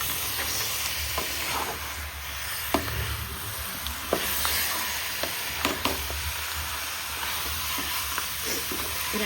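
Chicken pieces frying in plenty of oil coated with chili powder and masala, a steady close sizzle and hiss broken by occasional clicks and scrapes of stirring, with no voices.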